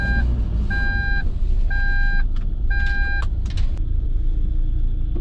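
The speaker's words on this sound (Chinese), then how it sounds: "堵车堵得特别厉害" Heavy, slow-moving traffic on a congested road leading out of a city: a steady low engine and road rumble runs throughout, with a repeated electronic beep sounding in short bursts through the first half and a few sharp knocks later.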